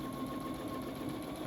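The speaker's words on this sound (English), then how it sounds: "just going to go ahead and sew 1/4 inch seam all the way down to the corner" A sewing machine runs steadily, stitching a quarter-inch seam along a quilt binding, its even mechanical hum continuing close and alone with no talk.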